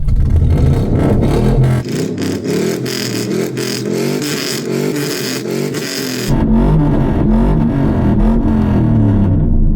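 A big V8 with a tuned exhaust in a Hennessey Mammoth revs hard and loud, climbing and rising in pitch, then drops back to a deep rumbling idle.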